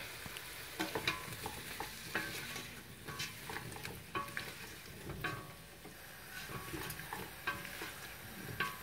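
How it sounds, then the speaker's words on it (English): Mushrooms sautéing in a pan for a keto cauliflower mac dish, a steady soft sizzle broken by repeated sharp scrapes and clinks of a spatula stirring against the pan, close and without talk. "I will leave the mushroom for 2 3 minutes to let it saute."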